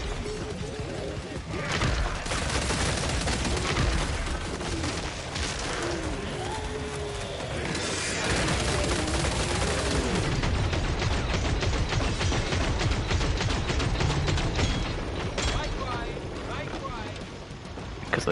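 In the video game Killing Floor 3, a turret fires at enemies with dense, continuous rapid gunfire amid other game effects, loud and sustained, while players talk over it.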